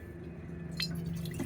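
Filtered river water drips into an emptied container, a few soft wet drops and a brief trickle standing out over a steady low outdoor hum.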